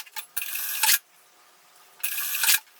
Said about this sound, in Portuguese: E aí eu vou passar uma costura aqui então na beiradinha,